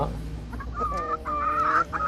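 Gramasree chickens cluck close by, and a rooster's drawn-out crow rises over the low clucking midway through.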